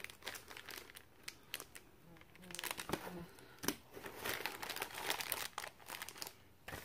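Scissors snip through clear plastic packaging close by, giving irregular crinkling, crackling bursts and brief cuts, with quiet talk now and then.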